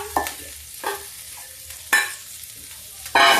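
Stone-ground green peas fry in a pan, with four distinct scraping bursts from the stirring spoon rising over a faint, steady sizzle.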